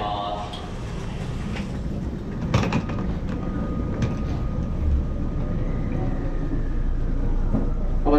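A local train pulls away from a platform at Maibara station, a low rumble and clatter that builds gradually with sharp metallic clicks, while a public-address voice speaks over the platform noise.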